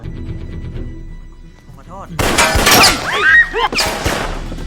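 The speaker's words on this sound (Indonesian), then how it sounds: "Tiba-tiba ada tembakan ke arah bengkel." Gunfire bursts out at a workshop in a film. After a quieter opening, a run of sharp, loud shots and impacts follows in quick, irregular succession, mixed with crashing noise.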